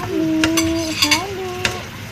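Chop suey with cabbage stirred in a pan, a metal utensil scraping and clinking against the pan in a few sharp knocks, close up, while a voice talks over it.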